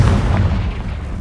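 A Confringo fire spell blasts in Hogwarts Legacy, a single heavy, loud boom with a rumbling low-end body that fills the whole moment and fades only slightly.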